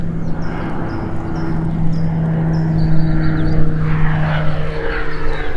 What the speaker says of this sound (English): Oh, and there goes another plane.